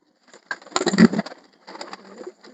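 Pigeons in a loft, including a tumbler breed, cooing in soft, repeated bursts at close range, with a short pause between two clusters of calls.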